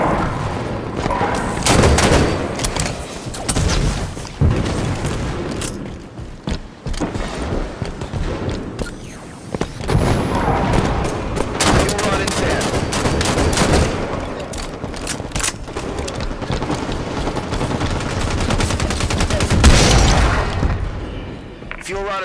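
Halo gameplay erupts in rapid gunfire bursts and grenade booms, dense and loud throughout, with game voice callouts mixed in.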